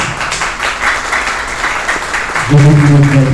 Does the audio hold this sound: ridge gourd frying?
no